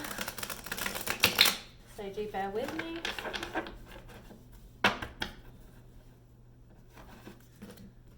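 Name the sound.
shuffling tarot cards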